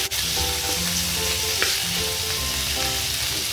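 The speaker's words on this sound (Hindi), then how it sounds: "दोनों को फ्राई करूँगी।" Garlic frying in oil for white sauce pasta, a loud continuous crackling sizzle close up with faint scraping tones underneath and no talk.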